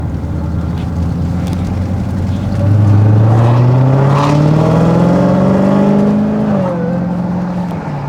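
A new dream car pulls away from a standstill and accelerates, the engine note climbing steadily through the gears, loud and close from inside the cabin with no talk.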